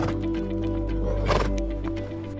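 A horse neighs loudly and close by, a long whinny that rises and falls over a low steady background hum.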